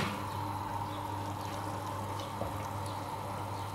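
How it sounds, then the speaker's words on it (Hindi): Cooking oil, about half a spoonful, poured into handi keema in a pan after its water has dried off, giving a steady close pouring and sizzling hiss over a low kitchen hum, with no voices. "पानी खुश्क हो गया, अब इसमें मैं थोड़ा सा ऑयल शामिल करूँगी,"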